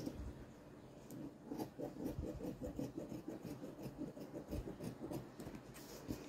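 Fabric is cut for the lining of a crochet bikini, giving a quiet, close, rhythmic rasping and scraping that repeats steadily throughout with no talk.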